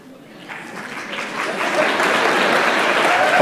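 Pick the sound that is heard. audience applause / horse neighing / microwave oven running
audience applause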